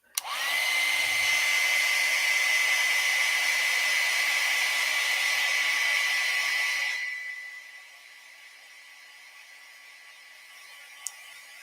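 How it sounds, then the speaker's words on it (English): A hair dryer blows loud and steady over wet watercolor paint for about seven seconds, then cuts off, leaving a faint hiss and a single small click. "let's dry that so I can get a more defined edge."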